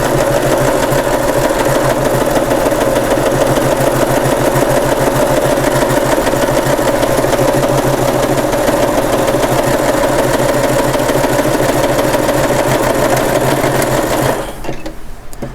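A sewing machine runs in one continuous, steady buzz while stitching a pocket onto an award sash, running loud and close for about fourteen seconds before stopping abruptly near the end.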